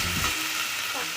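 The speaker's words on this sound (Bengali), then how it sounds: "দিয়ে দিচ্ছি গ্রেট করা আদা। আমি ভেজে নিব ভালো করে।" Grated ginger fries in tempering oil for a vegetarian taro root curry, a short burst of loud, close, hissing sizzle with a faint stir.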